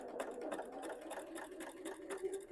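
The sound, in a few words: sewing machine stitching quilting on a table runner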